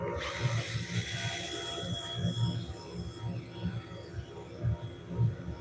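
Sandpaper rubs the inside of a cork oak bowl spinning on a wood lathe, with a steady motor hum and rhythmic, soft swishing pulses at close range.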